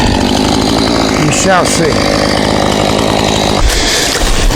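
A chainsaw runs loud and close while cutting high up in a tree during a takedown, its engine roaring steadily with a brief dip near the end; someone speaks briefly over it.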